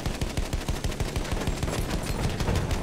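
Rapid automatic gunfire in the video game Battlefield 1, dense overlapping bursts of shots, loud and continuous throughout with no talking.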